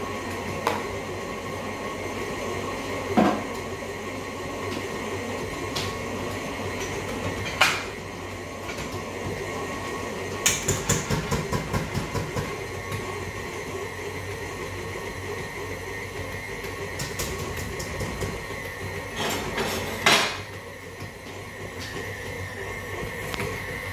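A stand mixer kneads pastry dough for a creamy flan with a steady low mechanical hum and whir. Occasional sharp clicks and knocks break in as the dough turns, with no talking.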